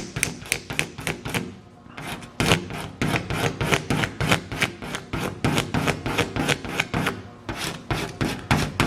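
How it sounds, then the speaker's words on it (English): Hand scraper working old paint off the body of a 1951 Dodge Crusader four-door chop top: steady rhythmic rasping strokes, about two per second, close and loud, with a brief pause near two seconds and no talk. "I think if I keep scraping at it, you get most of it off."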